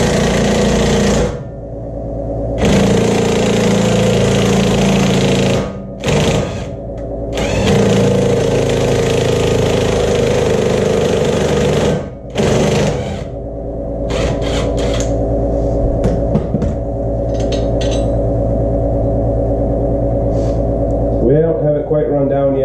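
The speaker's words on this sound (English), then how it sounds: "now we're just going to grab our impact and run it in" An impact gun runs a lug nut onto a 2008 Saturn Aura with the GM 3.5L engine, giving several loud, sustained rattling bursts separated by short pauses.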